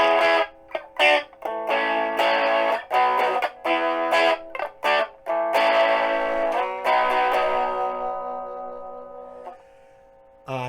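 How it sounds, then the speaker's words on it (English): A cheap Spectrum Strat-type electric guitar plays through an amp on its clean setting, bright picked notes and chords in short phrases with pauses, thin in the low end, ending on a ringing chord. "So these are your clean tones"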